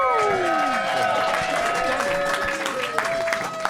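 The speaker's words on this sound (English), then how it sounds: "Big round of applause for Connor and" Audience at a London roast battle comedy night applauds and cheers loudly and continuously, with whistles and shouts rising over a dense wash of clapping.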